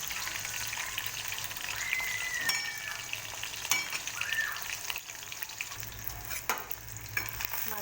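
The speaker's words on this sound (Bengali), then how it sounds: "মাছগুলো ভাজছি হালকা করে।" Pieces of bhetki fish fry lightly in a kadai, making a continuous crackling sizzle with scattered clinks and stirring noises throughout, heard close and with no voices.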